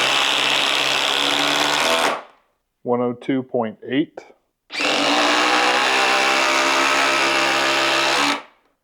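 A Dewalt impact driver runs loud and close in two long bursts of whirring and hammering. Between them comes a short gap where a voice speaks briefly.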